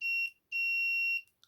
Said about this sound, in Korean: 알람이 울려요. 알람.